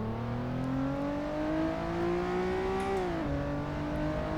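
A Honda NSX in the racing game Assetto Corsa accelerates hard, its engine note climbing steadily in pitch over several seconds before a brief dip as it shifts, then pulling on loud and close throughout.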